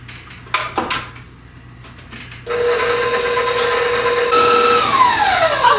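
Electric stand mixer beating cake batter for a red, white and blue poke cake, starting abruptly after a few clinks and whirring steadily and loudly, its pitch shifting near the end.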